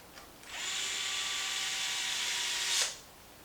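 A power drill runs steadily for about two seconds, driving a screw into a Traxxas Maxx RC truck's front bulkhead, loud and close, with a brief rise in pitch just before it stops.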